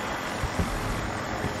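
A helicopter's steady engine and rotor drone is heard at close range in Battlefield 2042, continuous and even throughout with no talk.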